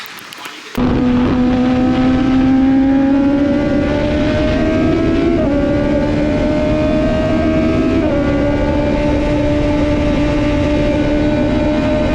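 A loud, steady engine drone from a car out on a racetrack, with a strong rising-and-falling tonal whine and small pitch steps that suggest gear shifts. It begins abruptly after a short quiet moment and then holds close and continuous throughout.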